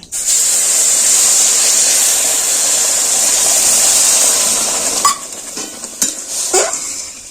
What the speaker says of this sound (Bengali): আমার সুজিটা ভালোভাবে ভাজা হয়ে গেছে এবার আমি সুজিতে দিয়ে দেব জল